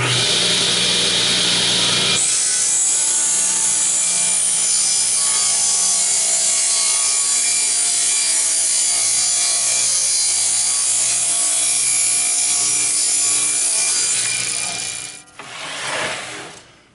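Saw cutting a taper into hardwood held in a tapering jig, a loud continuous whine and rasp of blade through wood lasting most of the time, ending as the cut finishes and the tool winds down.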